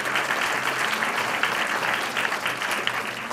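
Applause from the audience at a university achievement awards ceremony, a sustained, even patter of many people clapping in a hall, with no voices over it.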